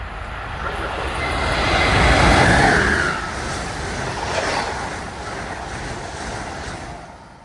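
Amtrak ACS-64 electric locomotive number 608 on a Northeast Regional rushes through Mansfield, Massachusetts on the Northeast Corridor, a broad rising roar that peaks mid-pass and then eases into a sustained rumble.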